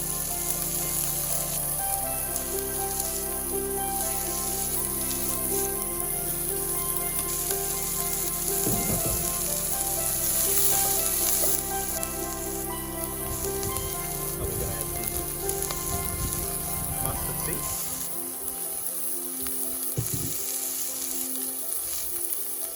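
Ginger and garlic sizzle and fry in a pan with onions for a coconut-milk salmon curry, a steady dense crackle that holds loud throughout with no talking.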